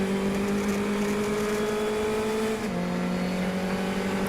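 A race car on the final lap of the 2016 Palm Beach Road Race Classic sustains a loud, steady engine drone into a corner, with its pitch dropping as it lifts off partway through.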